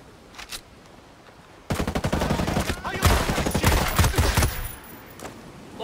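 Gunshots in Ghost Recon Breakpoint, a rapid automatic burst of fire breaking in after quieter moments and holding for several seconds, loud and close, with a couple of faint earlier shots.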